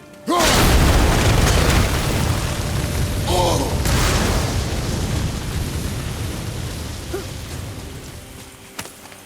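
Heavy booming blasts from bombs going off in the video game God of War (2018), a loud explosion at the start followed by rumbling, crackling debris and a few fainter pops, with someone speaking briefly underneath.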